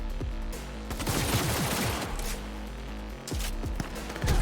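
Sustained automatic gunfire from a heavy gunner enemy in the Cyberpunk 2077 video game, loud rapid bursts with dense overlapping shots and impacts running throughout.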